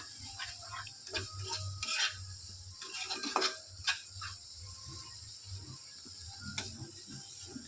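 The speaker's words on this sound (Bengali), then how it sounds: "যতক্ষণ না তেল ছাড়ছে মশলাটা খুব ভালোভাবে কষিয়ে নিতে হবে" Shrimp curry spice paste is stirred and sautéed in a pan, the spoon scraping and tapping in irregular bursts over a soft sizzle, close and moderately quiet.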